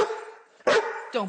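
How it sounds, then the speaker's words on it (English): A dog gives two short, loud barks or yips close by, the second shorter, following a stretch of voiced, whining sound that may be a person talking. "Don't bark at me."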